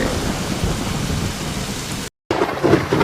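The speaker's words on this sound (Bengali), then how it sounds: "বাইরে তো খুব বৃষ্টি হচ্ছে" Heavy rain falls outside in a Bangla cartoon, a dense, continuous downpour with a low rumble like thunder, broken by a brief moment of total silence before the rain resumes; no one speaks.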